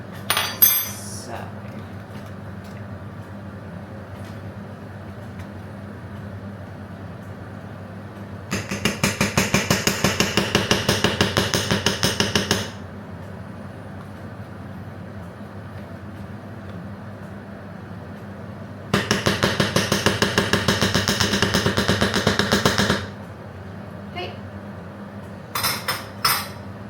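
A spoon scrapes and clatters in a pan while stirring tomato puree and soft cheese together. Two separate stretches of quick, rhythmic scraping sit over a steady low background hum.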